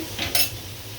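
A utensil stirs fried bitter gourd in a pan, making a single brief scrape and clink of metal against the pan over a quiet background.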